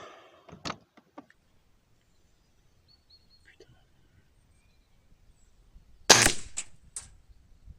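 Air rifle shot firing lead pellets, a single loud, sharp crack close by near the end, following a near-silent stretch with a couple of small clicks and handling knocks earlier.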